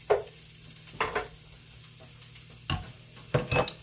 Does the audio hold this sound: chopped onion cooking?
yes